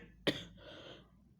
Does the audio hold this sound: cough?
yes